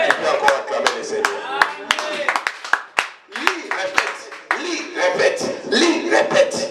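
A church congregation claps and cheers for the Lord, with sharp irregular hand claps scattered among loud shouting voices and exclamations.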